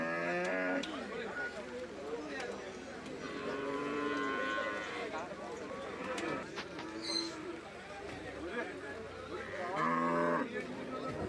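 Cattle and buffaloes at a busy livestock market on a rainy day low and moo repeatedly, near and far, over steady crowd chatter and a few people talking nearby.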